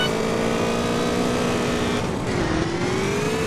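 Motorcycle engine in the video game GTA San Andreas drifting, a steady loud droning whine held throughout with pitch dipping and rising near the end, with no talk over it.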